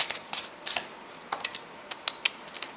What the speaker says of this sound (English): I'm shuffling the wrong deck, so let me shuffle the right one.